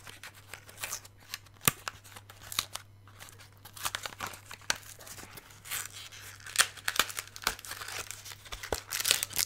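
A wrapped MyProtein brownie is torn open by hand, giving close crinkling and rustling of plastic packaging with irregular sharp crackles and tears.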